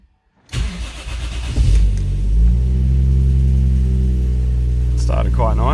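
A Toyota 1JZ engine with freshly changed coil packs cranks briefly, catches and settles into a loud, steady, close idle rumble that holds evenly to the end.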